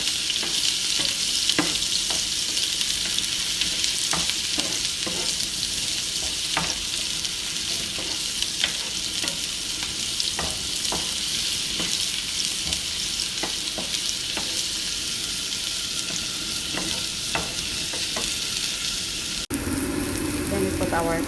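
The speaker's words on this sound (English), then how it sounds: "Then we put our onion and garlic. We're going to mix them." Onion and garlic sizzle loudly in a hot pan while being stirred, the dense frying hiss broken by regular scraping taps of the utensil, close and continuous.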